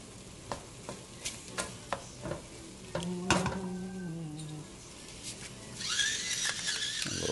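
Ground meat sauce cooking over a medium flame, broken up with a wooden spoon: a series of rhythmic close scrapes and taps against the pan over a soft sizzle, then a brief squeaky scrape and a louder burst of sizzling at the end.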